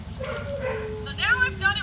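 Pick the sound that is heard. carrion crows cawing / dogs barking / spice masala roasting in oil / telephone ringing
dogs barking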